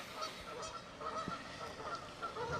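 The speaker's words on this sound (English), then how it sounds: "Man, these geese are just mad at me today." Geese honk repeatedly in a noisy cluster beside a lake, several birds calling over one another at moderate distance.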